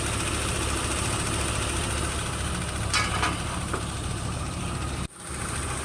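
A VW T4 van engine idling with a fault of no battery light and no charging, heard as a steady close rumble that swells slightly once before cutting off sharply near the end, then resuming.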